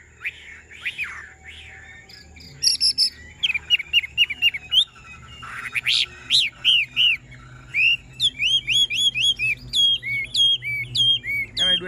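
A caged hwamei songbird sings alone, loud and close, in rapid bursts of bright whistled and chirping phrases that repeat almost continuously.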